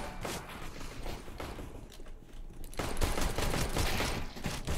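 Gunfire from a CS:GO match on the Mirage map, with rapid overlapping shots that build into a louder, denser burst in the second half of the clip, alongside game ambience.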